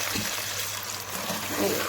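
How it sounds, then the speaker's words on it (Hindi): Water is poured from a half glass into a cooking pot of fried spices and sugar to start a syrup for degi mutanjan, a steady splashing pour over a noisy kitchen background. "इसके साथ ही हम 1/2 गिलास पानी ऐड कर देंगे।"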